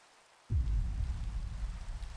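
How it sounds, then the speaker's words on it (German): Rain and a storm in the video game Minecraft come in abruptly after a moment of silence, a steady low rumbling wash of rain that stays loud and continuous to the end. "Jetzt kommt Regen und Sturm."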